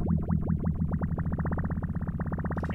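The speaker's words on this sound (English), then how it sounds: "once you mix it up with the rate knob," A phaser effect with its rate knob being turned sweeps through a sustained, distorted tone, the swooshing sweeps speeding up into a fast, even warble.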